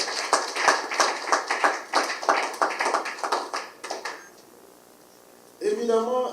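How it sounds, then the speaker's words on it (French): An audience at a political gathering backing President Félix Tshisekedi claps in a fast, rhythmic burst that fades into quiet before a voice begins speaking. "que je vous demande d'applaudir fortement."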